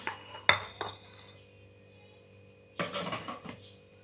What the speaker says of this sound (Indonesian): saya akan tuangkan tahunya ke tempat yang lebih besar nanti